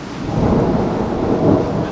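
Steady heavy rain with gusting wind roaring low and continuous, a dense unbroken wash of sound; north wind at 18 gusting to 30, in South Dakota.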